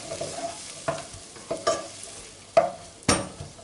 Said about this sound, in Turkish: Şimdi soğanıyla beraber biraz kavuracağız arkadaşlar